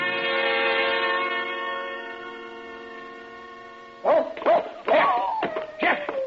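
After a long sustained horn-like tone fades, a dog barks in several loud, close bursts in a radio drama, with a whining howl between barks.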